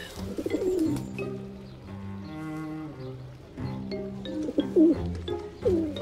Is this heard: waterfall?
no